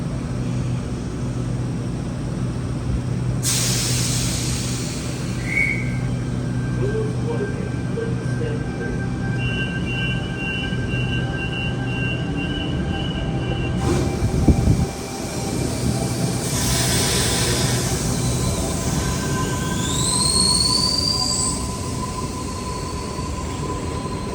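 A Sydney Waratah electric train pulls out of Central Station, its motors rising in pitch with whining tones and a brief wheel squeal under steady station hum, heard from the platform.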